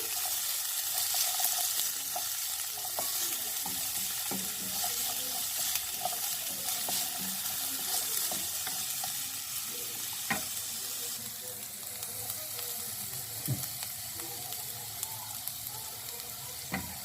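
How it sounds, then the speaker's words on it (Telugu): Carrot, cauliflower and cabbage stir-fried for veg noodles sizzle continuously in a hot pan, with occasional sharp scrapes and taps of a spatula and no talk. "వెజ్ నూడిల్స్ కాబట్టి అన్ని వెజ్జీస్ వేస్తున్నాను. క్యారెట్, కాలీఫ్లవరు మరియు క్యాబేజ్ వేసాను."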